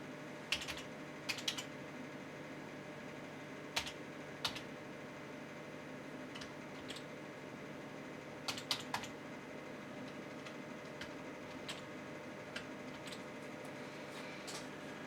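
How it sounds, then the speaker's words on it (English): Soft clicks on a computer keyboard as a camera ID is typed in, with irregular bursts of keystrokes and short pauses over a faint room hum, fairly quiet and close. "We can now type the camera ID into that field."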